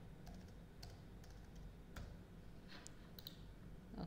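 Soft, scattered clicks of a computer keyboard as a short tag is typed, faint and sparse over a quiet background hiss with no talking.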